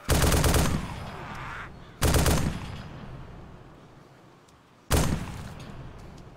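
Gunfire in the video game DayZ Epoch: three loud, sharp shots spaced a few seconds apart, each with a decaying echo tail, with no talk over them.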